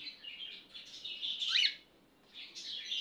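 A pet bird chirps nearby in a bright, continuous twitter with short bursts, pauses for a moment, then starts tweeting again.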